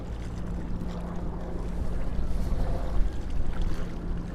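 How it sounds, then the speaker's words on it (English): Water in Central Park on a snowy winter day, a steady close wash of flowing or splashing water mixed with wind noise on the microphone, continuous with a slight swell near the end. "Let's listen to some water sounds for a little bit"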